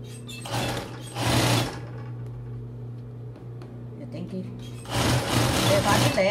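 A sewing machine stitching the foam cup of a bra, with two loud close bursts of rapid whirring separated by a quieter pause with faint handling sounds.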